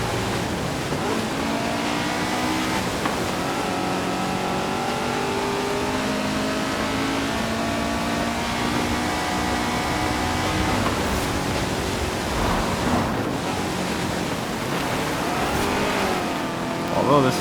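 A Honda S2000 sports car engine holds a steady, loud drone, its pitch rising and falling as the revs climb and ease off over a long stretch.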